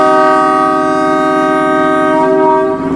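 A MEMU train sounds a sustained, loud horn as it departs a station on the Villupuram to Tiruvannamalai route, the steady tone holding for several seconds over low rumble.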